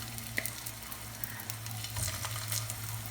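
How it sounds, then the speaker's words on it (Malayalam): Aloo tikki patties sizzle in hot oil in a pan, a steady close frying crackle with a few sharper pops and light stirring clinks, no voices present. "ഇതുപോലെ തന്നെ ബാക്കി നമുക്ക് ഈ എണ്ണയിൽ വറുത്തെടുക്കാം."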